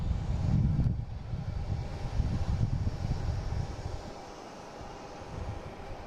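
A Lufthansa airliner at Boston Logan International Airport, bound for Munich, produces a distant, diffuse jet roar mixed with wind buffeting on the microphone, swelling briefly and then settling to a low, steady wash.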